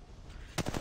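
A short burst of rapid gunfire in the mobile battle royale game Apex Legends Mobile cuts in sharply after a quiet stretch. It is loud, close and lasts only a fraction of a second.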